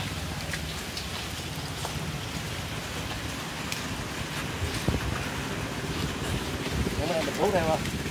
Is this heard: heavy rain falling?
yes